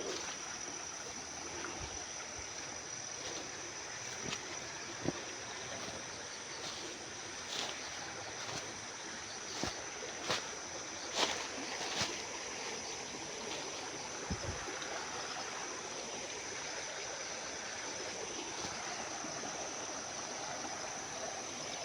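Creek water flowing steadily beside the bank, a continuous close rushing babble with occasional small splashes and knocks over about twenty seconds.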